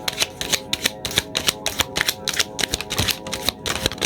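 Tarot cards being shuffled by hand: a continuous run of rapid, crisp papery clicks and flutters, fairly close and steady for the whole stretch, with no talking.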